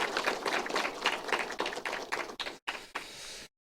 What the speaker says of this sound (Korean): 축하하는 의미에서 우리 박수 한번 보내주시길 바랍니다